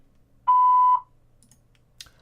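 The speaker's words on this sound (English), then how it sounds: "Please leave a message after the beep." A single voicemail beep on a Skype call sounds as one clear half-second electronic tone against near silence, followed by a faint click.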